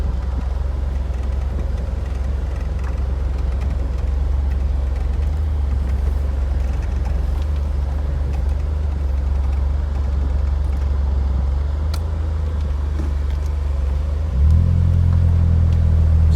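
A 1983 Ford Mustang GLX with a 2.3L four-cylinder engine drives on a road test, its steady low engine rumble and road noise loud and continuous from inside the car, with a deeper rise in engine tone near the end.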